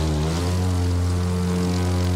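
Propeller airplane engine droning steadily in the racing game The Crew 2, a loud, close, continuous hum with strong low tones and no voices.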